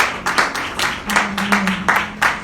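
A church congregation applauding during a sermon, a steady wash of many hands clapping at moderate loudness with a low hum underneath, no voice over it.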